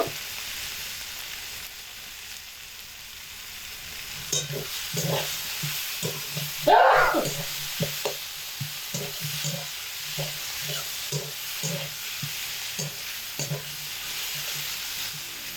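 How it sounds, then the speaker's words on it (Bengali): Banana flower fries with ground garam masala in a pan, a steady sizzle under repeated rhythmic scraping and stirring strokes, with one louder clatter midway. It is close and there is no talking. "কষানোর সময় অল্প করে একটু গরম মশলা গুঁড়ো দেব"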